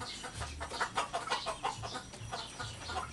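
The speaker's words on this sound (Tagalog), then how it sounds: "Yan yung mga manok ni tatay, oh." Several chickens cluck in quick, uneven bursts nearby, soft but clear over light background noise.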